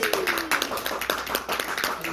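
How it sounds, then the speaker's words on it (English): Audience applauding at a UK business event, a spread of hand claps at moderate density, fairly close, over a short stretch. "big round of applause for the"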